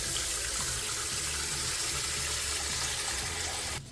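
Cold water runs steadily from a tap in one continuous, even gush, fairly close and alone, cutting off at the very end.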